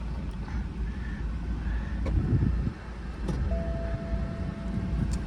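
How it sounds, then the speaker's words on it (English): A car's convertible top lowers at a dealer auction lot: a steady electric motor whine rises midway and holds, over a low rumbling background of wind and engine noise. "I'm putting the top back down, folks, just so you guys can see it"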